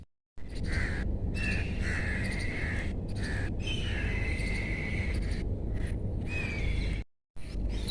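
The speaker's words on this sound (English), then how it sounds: "you will hear different bird sounds." Early-morning birdsong in harsh-climate Delhi: crows caw and other birds call and chirp continuously against a steady background hiss, moderately distant.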